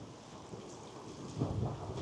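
Wind blowing across a rocky coast by a lighthouse and its concrete plinths, heard as a low, steady rushing buffet with a stronger gust near the end, fairly faint and with no voices.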